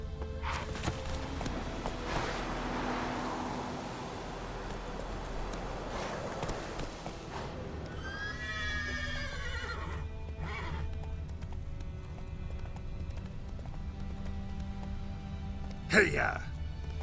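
Roach, the horse in The Witcher 3, gallops with rapid hoofbeats and lets out a loud shrill whinny, with game ambience underneath and a sharp thump near the end.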